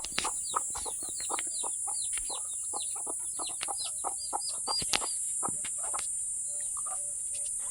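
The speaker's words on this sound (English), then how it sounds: "It's so nice to get to hear the chicken and everything just making the noise." Chickens cluck and chirp in a lively, scattered chorus close by, with short calls overlapping against a steady high insect hum.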